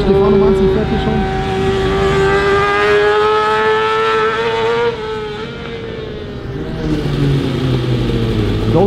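Racing motorcycle lapping the new Cremona race track layout, its engine note loud and close with rising and falling harmonic pitch, easing off briefly around the middle before picking up again, with voices talking over it.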